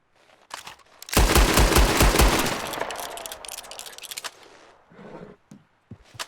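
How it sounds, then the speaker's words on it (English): Heavy cannon gunfire in a video game, a loud rapid burst of booming shots that rolls into a long echoing tail and fades, followed by a few fainter scattered shots. "Well, I have the cannon on me right now."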